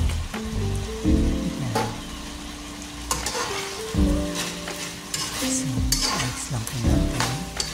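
Onion rings fry and sizzle steadily in a pan for chicken steak while a utensil stirs and scrapes them, producing repeated clattering knocks over the crackling hiss, close by, with a few brief spoken words.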